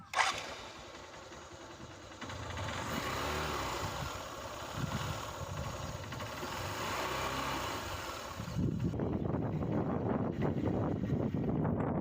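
A Honda CB Shine motorcycle engine idles with a steady low rumble, then revs up louder near the end, with wind noise in the background.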